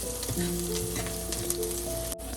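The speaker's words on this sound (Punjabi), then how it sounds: "ਹੁਣ ਅਸੀਂ ਲਸਣ ਪਾ ਦਵਾਂਗੇ ਵਿੱਚ ਕੱਟਿਆ ਥੋੜੀ ਕਿ ਦੇਰ ਇਹਨੂੰ ਭੁੰਨਾਂਗੇ" Chopped garlic fries in a pan after cumin for an okra and onion curry, giving a soft, even sizzle alone without speech, with a faint tonal hum and one brief click near the end.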